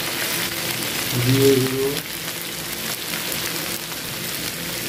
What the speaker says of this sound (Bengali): ভালো করে ভেজে নেবো একসাথে। দেখুন আমি আলুটা একটু হালকা করে ভেজে নিয়েছি।